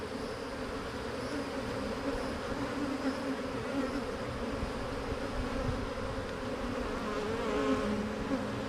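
Honey bees buzz steadily around an open hive frame loaded with brood, a dense, continuous droning swarm close by with no pauses and no talk.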